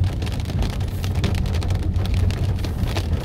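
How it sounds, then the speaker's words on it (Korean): Autumn rain falling in a mountain village, a steady close patter of drops on surfaces with a low constant rumble underneath, no speech. "오늘 비가 오기 때문에"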